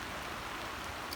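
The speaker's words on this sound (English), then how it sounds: "it's raining" Steady rain falls outdoors beside the rising Pilchuck River, a faint, even hiss of drops on surfaces that continues without a break.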